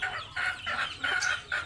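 Young chickens hatched from eggs on a small farm cluck in short repeated bursts, close and moderately loud, with no one talking.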